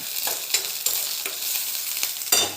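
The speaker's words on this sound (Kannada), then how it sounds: "ಸ್ವಲ್ಪ ಎಣ್ಣೆ ಹಾಕಿ ಎಣ್ಣೆ ಕಾದ ನಂತರ ಈರುಳ್ಳಿ ಹಾಕಿ" Onions dropped into hot oil in a kadai hiss with a steady close sizzle, broken by a few sharp scraping stirs and a louder burst near the end when more goes in.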